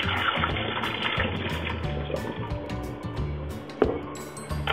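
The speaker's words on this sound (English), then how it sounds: "Once your noodles are soft, strain them in a colander and set aside." Soaked glass noodles are poured into a colander, water splashing and trickling steadily up close, with light clinks of the colander and a sharper knock near the end.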